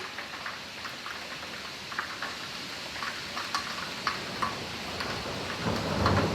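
Hail mixed with rain and snow falls outdoors, a dense steady hiss broken by scattered sharp ticks and taps of hailstones hitting surfaces, swelling louder near the end.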